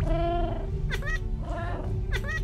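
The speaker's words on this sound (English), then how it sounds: "Ooh, a cat." A Minecraft cat gives several drawn-out meows with rising and falling pitch, close and clear over a steady low background hum.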